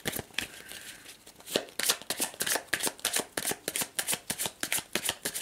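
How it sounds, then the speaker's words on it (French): Tarot cards being handled and drawn from a deck, a run of quick papery flicks and snaps in a steady rhythm, close and fairly soft, with no talking. "on va aller chercher une dernière carte pour les taureaux"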